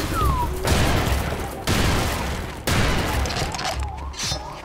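Explosions from a thrown grenade in the video game Serious Sam 2, three loud booming blasts roughly a second apart, each followed by a sustained roar of rumbling noise.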